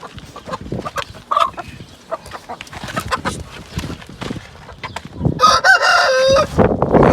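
Chickens cluck in short irregular bursts at close range, then a rooster crows loudly near the end, with faint voices in the background.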